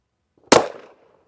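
A single sharp pistol shot from a Dan Wesson Pointman Major 1911 handgun, a loud close crack followed by a brief decaying echo, isolated against silence.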